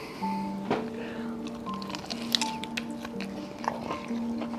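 Crunchy chili-sauced fried chicken wings, cooked in peanut oil, are chewed close to the mic in a few moist, crackling bites. The bites come in bursts over a steady background hum, with no talking.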